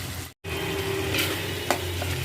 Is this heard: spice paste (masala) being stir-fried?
yes